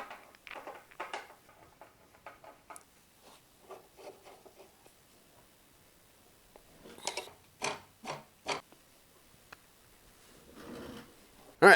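Fasteners on an eBike are checked and tightened by hand, giving soft scattered clicks, rubs and ratcheting taps, with a few sharper knocks later on and one loud clack at the very end.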